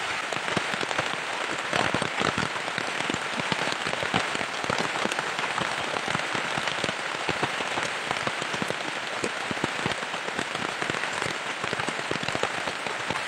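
Steady rain pours down outdoors, a dense, continuous patter of drops hitting surfaces at close range, loud and unbroken throughout with no voices.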